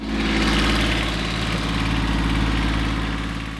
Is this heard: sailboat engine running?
yes